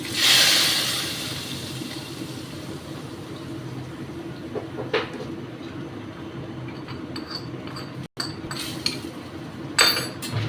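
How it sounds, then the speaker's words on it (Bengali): Tempering spices stirred into pineapple chutney in a pan make a soft, steady sizzle, with a spoon scraping and clinking against the metal now and then, a short gap, and then a few sharper knocks near the end. "ফোড়নটা দিয়ে নেড়ে দিচ্ছি"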